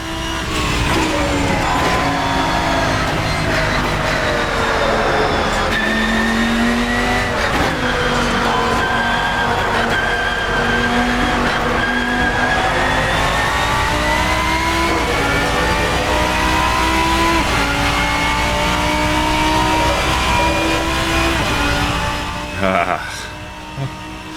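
A GT3 race car driven at speed around a track in the Assetto Corsa racing game, engine droning loud and steady through rising and falling revs and gear changes, with tyre noise, heard alone for a long stretch.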